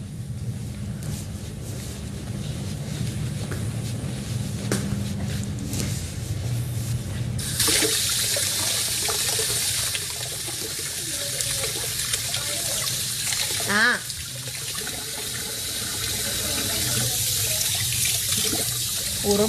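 A tap runs into a sink while dishes are washed, a steady splashing stream that grows louder and fuller partway through, with faint clinks and handling sounds near the mic.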